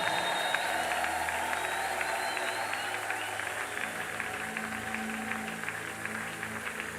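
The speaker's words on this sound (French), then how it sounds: "Je pensais qu'on acclamait le Seigneur" A church congregation applauding and acclaiming the Lord, steady sustained clapping from a crowd filling the whole stretch, with voices mixed into the cheering.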